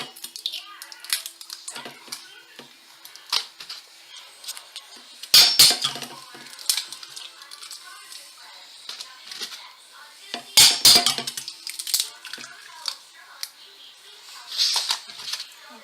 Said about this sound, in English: we're going to take 8 to 10 eggs, and we're going to crack them